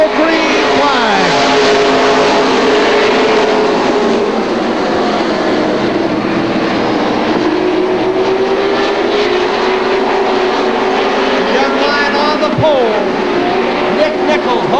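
A pack of stock race cars roars off at the green flag of a 1998 heat race at Oxford Plains Speedway. The engines drone loud and continuously under an announcer's commentary.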